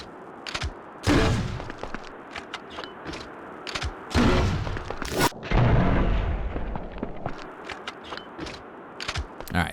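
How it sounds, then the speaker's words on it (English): Burst rounds fired from a weapon in Resident Evil Outbreak File 2, with repeated loud shot bursts and booming impacts, separated by short mechanical clicks and quieter stretches. "let's test all of these individual rounds out. I'm gonna start with the burst rounds"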